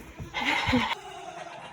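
A mare on a ranch whinnies to call her foal back, one loud, close, wavering neigh lasting about half a second, with quieter animal sounds after it.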